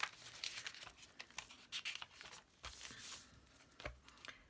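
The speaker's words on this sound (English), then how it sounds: "And I need to shuffle my cards." Soft, quiet papery riffling and slapping of tarot cards being shuffled, in uneven bursts of crisp rustles close by.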